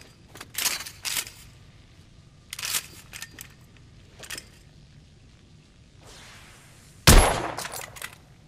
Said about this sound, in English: I've outfitted this one with a telescopic sight. It's ideal for long-range shooting.